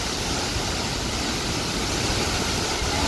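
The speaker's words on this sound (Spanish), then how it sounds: "Miren cómo cae la cascada, ¿eh?" Pailón del Diablo waterfall in Baños, Ecuador pours with a loud, constant roar of falling water, a broad unbroken rush heard up close with no voices over it.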